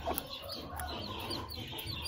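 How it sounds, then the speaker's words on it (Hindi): A newly hatched Aseel chick cheeps in repeated thin, high peeps, close and fairly faint over a low background hum. "चूजा परेशान हो रहा है"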